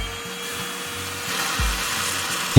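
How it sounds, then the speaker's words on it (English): A Whall handheld cordless rechargeable wet and dry vacuum runs with a steady, close motor whine, with faint rubbing and bumping sounds over it and no talking. "the great thing about this vacuum is it's also useful for wet messes"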